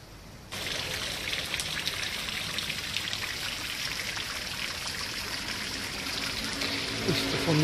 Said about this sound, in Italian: Il suono dell'acqua è sempre poetico nella notte.